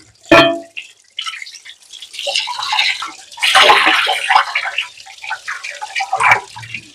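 A cast iron pan is washed with water, with splashing, pouring and dripping in uneven bursts, close by, including a sharp clank of the heavy pan near the start.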